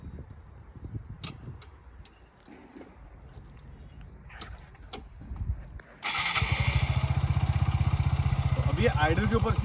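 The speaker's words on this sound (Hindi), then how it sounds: "ये आइडल के ऊपर इसकी वॉइस है" A Suzuki Gixxer SF motorcycle with dual exhaust catches and settles into a steady, even idle, loud and close, after a stretch of quieter ticking and handling sounds.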